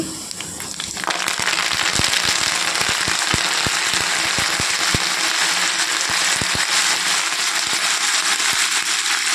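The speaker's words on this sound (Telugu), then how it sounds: "కరివేపాకు వేసుకోవాలండి" Curry leaves crackle and sputter loudly in hot oil while tempering tomato dal, giving dense continuous sizzling punctuated by sharp pops throughout, with no talking.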